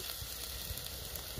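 Steady, crackling sizzle of onions frying in hot olive oil, continuous and fairly close, with no voices.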